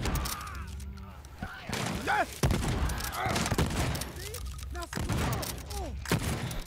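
Vopat Trencher weapon firing in DEATHLOOP, a run of sharp heavy shots with mechanical clacks and ringing tails between them, loud and close, with a voice speaking over it.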